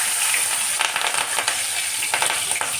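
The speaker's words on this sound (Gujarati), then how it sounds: "રાઈ મારી કતરી ગઈ છે અને હવે લીલા મરચાં" Green chillies dropped into hot oil with crackled mustard seeds, giving a loud, bright, continuous sizzle close up with a few sharp bursts and pops over the short stretch.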